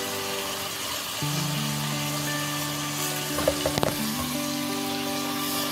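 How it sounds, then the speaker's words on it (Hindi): Spices fry in hot oil for a chickpea curry, a steady soft sizzle with a few close clinks from stirring partway through. "उसको फ्राई करेंगे तेल के साथ"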